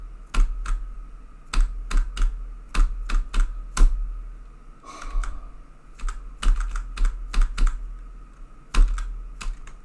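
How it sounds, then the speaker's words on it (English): Computer keyboard keys are pressed during gaming in sharp, irregular clusters of loud, close clacks, with a brief softer pause midway before the rapid tapping resumes. "You're moving around fully with your keyboard."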